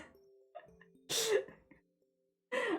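A person sneezes up close, a sharp burst after some soft throat sounds, then a second sneeze-like burst follows a moment later in a quiet indoor setting.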